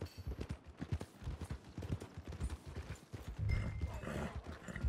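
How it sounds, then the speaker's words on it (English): Horse hooves clip-clop along a path in the Western video game Red Dead Redemption 2, a steady run of close, rhythmic hoofbeats with a heavier thump and a swell of ambient noise near the end. "Ah, don't let that big bastard get the better of you there, Arthur. he's all right. You're all right, boy. Stables are just up ahead"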